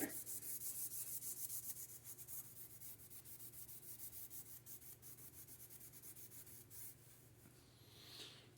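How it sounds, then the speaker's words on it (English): Green scrubbing pad rubbing along an oiled sword blade in quick, rhythmic strokes, close and fairly quiet, the scratchy swishes repeating steadily and thinning toward the end. "I'm going to take my green scrubby, polish down the blade."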